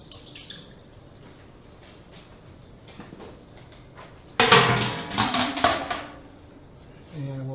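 Whey drained from a homemade cheddar cheese pan is poured into a kitchen sink. It comes as a sudden close splashing pour that lasts about two seconds, after quiet handling noises and a faint voice.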